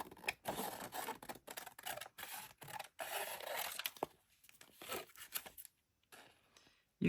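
Scissors snip and crinkle through a glued art encyclopaedia book page being fussy cut, a close run of irregular cuts with brief pauses and a quieter stretch near the end.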